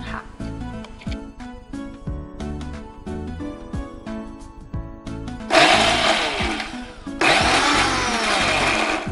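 A kitchen mixer grinder whirs as it grinds green chickpeas with mint leaves and coriander, a steady close motor drone with pulsing surges, then two loud, harsh bursts of full-speed grinding near the end.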